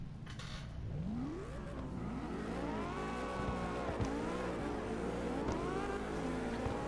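A Maverick muscle car engine revs in the racing video game CarX, rising and falling through repeated loud throttle sweeps over a steady low rumble, with no voices.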